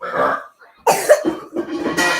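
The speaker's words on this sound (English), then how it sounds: "Why are you coughing so much?" A few harsh coughs come in quick bursts, close by, with short breaths between them and no talking.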